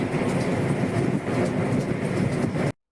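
A train rolls on in a heavy downpour, with rainwater gushing like a waterfall into the cab where the loco pilot drives holding an umbrella. The rumble and hiss are loud and steady, then cut off abruptly.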